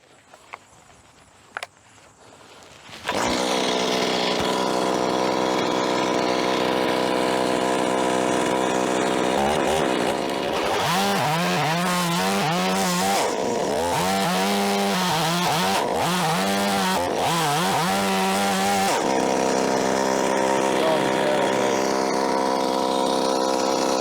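A chainsaw starts after a few faint clicks, then runs loud and close, idling, revving hard through a high-pitched stretch in the middle and settling back to a steady drone, with no voices.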